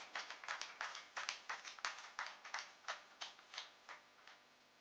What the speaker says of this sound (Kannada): ಜೋರಾದ ಕೈ ಚಪ್ಪಾಳೆ